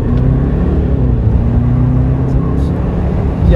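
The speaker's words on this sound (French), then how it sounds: "Allez, un petit départ arrêté, c'est parti." An Audi A8 pulls away from a standing start, its engine a loud, steady rumble that builds into a rising drone as it accelerates, up close and filling the cabin throughout.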